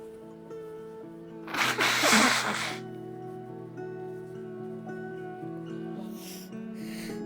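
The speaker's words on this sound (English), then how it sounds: "I have to blow my nose" One loud, wet nose blow lasting about a second, close up, over a low background hum, followed by a couple of faint sniffles.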